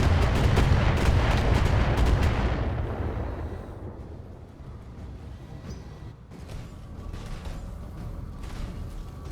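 Heavy mech weapons fire in the BattleTech video game, a loud dense barrage of booming shots for the first few seconds that fades into a lower rumble, followed by a few scattered fainter bursts.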